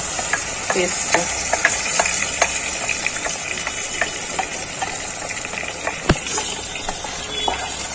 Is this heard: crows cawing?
no